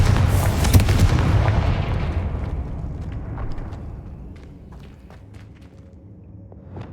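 A Confringo blasting spell in Hogwarts Legacy bursts with a loud, close boom, and its rumbling tail fades over several seconds. Scattered faint clicks and small debris sounds follow.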